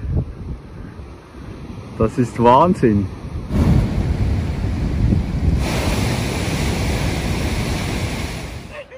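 Waves surge through a chimney-like rock blowhole on the Moroccan coast, building into a loud, rushing whoosh of air and water that is roughened by wind buffeting. Someone speaks briefly just before the surge.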